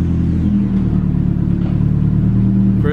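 Rebuilt Toyota 1JZ-GTE VVT-i engine in a car pulling away in first gear, with a loud, steady low rumble close by throughout and a brief rise in pitch at the end.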